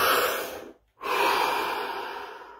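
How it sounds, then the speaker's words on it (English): A single deep breath in a guided relaxation session: a steady, close airy rush, a brief silent pause near the middle, then a long smooth exhale trailing off. "Take a deep breath."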